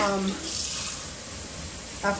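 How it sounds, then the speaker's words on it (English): Tap water runs steadily into a cooking pot, a continuous hiss with a person's voice briefly over the start and end. "Let me put some water in this pot"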